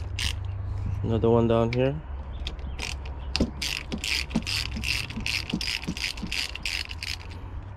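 A ratchet wrench clicks in quick, even bursts while loosening 13 mm bolts on a Mercury/Yamaha 115 hp EFI outboard, close and fairly loud, following a short spoken remark and a brief mechanical whir.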